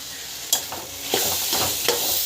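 A ground spice mixture sautéing in a pan, with a steady low sizzle and several sharp scraping stirs spaced through it, close up and with no voices.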